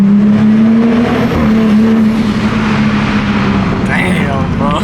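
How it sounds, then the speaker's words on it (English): A 500+ hp Toyota Supra with a titanium intake revving during a canyon drive, a loud sustained engine drone that climbs and holds close by, with someone talking excitedly over it. "Hear this. Oh my god, bro. The titanium intake sounds so good."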